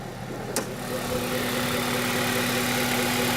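Honda Civic engine with an air induction kit and strut brace, idling steadily under the open bonnet, a close, even low hum with a brief click early on.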